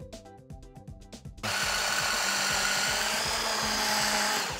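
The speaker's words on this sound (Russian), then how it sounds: "У меня есть вот абсолютно волшебная насадка, которая протирает сквозь дырочки мой картофель." An electric puréeing attachment forcing cooked potatoes through small holes starts with rhythmic mechanical knocking, then switches to a steady, loud motor whir that runs unbroken to the end.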